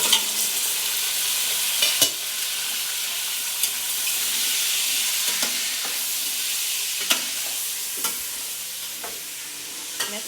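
Chicken fries in a pan with a steady, soft sizzle and hiss, broken by occasional sharp clicks and scrapes of stirring, all fairly quiet and close.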